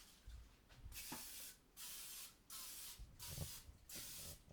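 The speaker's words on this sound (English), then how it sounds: "when I spray it, I like to spray it over the sink" Several short bursts of cooking spray hiss in a row onto a baking tray over a sink, each lasting about half a second with brief pauses between them, close and fairly faint.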